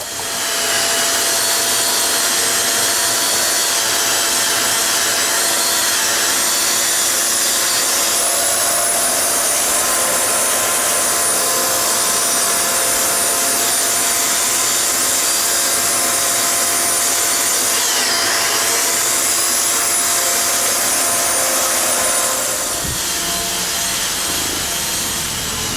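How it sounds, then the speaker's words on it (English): A grout-cutting blade runs with a vacuum attached while re-grouting a kitchen floor, giving a loud, steady, high-pitched whine and rushing hiss for about 23 seconds before the tone drops and changes near the end. "turn the vacuum on, turn the blade on"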